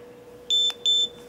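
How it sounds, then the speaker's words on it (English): A Tachyon OPS HD action camera powering off gives two loud, steady high-pitched beeps in quick succession, each lasting about a quarter second, close and clear over faint background hiss. "you'll hear those two pretty significant beeps"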